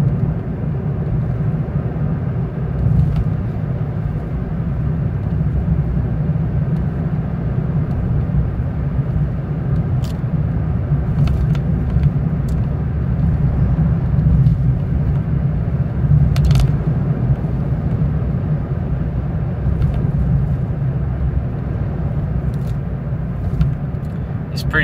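A car drives along a countryside road in Japan, its steady low engine and road rumble continuous and fairly loud throughout, with a few faint clicks above it.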